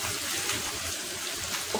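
Water poured into a cooking pan of sautéed sardines with vegetables, a steady rushing, splashing pour that runs unbroken for a couple of seconds, close up with no voices.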